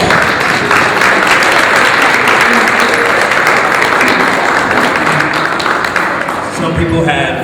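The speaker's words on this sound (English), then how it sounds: "Let's give them another round of applause." A church audience at a women's leadership event breaks into sustained, dense applause that holds loud and even throughout, with no voice rising above it.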